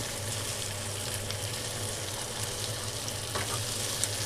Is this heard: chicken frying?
yes